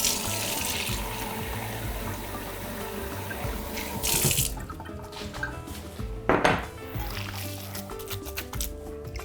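Water running from a kitchen tap while hands are wetted under the cold stream, a steady close splashing rush with brief clinks of dishes and shifts in the flow as hands move through it.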